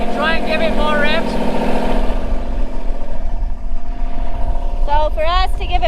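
A boat engine revs loudly and steadily with a rough mechanical drone and rattling tones, while voices talk over it at the start and the end.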